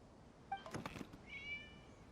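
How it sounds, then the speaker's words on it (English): A cat meows in Genshin Impact on PS4, two short faint meows in a quiet scene, the second drawn out and higher. "It was just a cat."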